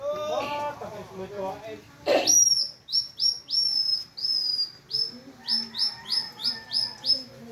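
A young bamboo whistle used by hunters to imitate birds gives a series of sharp, high chirping notes repeated rhythmically at close range, after a brief stretch of talk.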